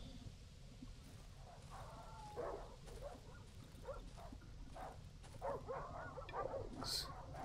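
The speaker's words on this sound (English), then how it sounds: "There's a whole bunch of dogs." Several dogs in the horror survival game Darkwood yip and whimper in scattered bursts, a little distant, over a steady low ambient rumble that swells slightly toward the end.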